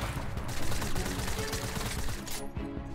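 Rapid bursts of gunfire in a Fortnite match, a dense, loud barrage of shots running continuously with sharp peaks and little pause over a few seconds.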